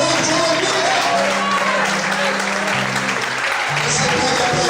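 Church congregation clapping loudly and continuously in a sustained burst of applause, with a preacher's amplified voice and musical tones sounding underneath.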